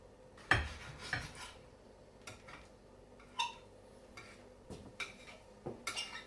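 A knife taps and scrapes against a dish of microwave moussaka a few times, with soft clinks of cutlery spread across an otherwise quiet stretch.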